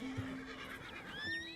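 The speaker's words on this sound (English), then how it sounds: "That is an American Standardbred." An American Standardbred horse in a video game lets out one short, close whinny that rises and falls, over a faint steady background tone.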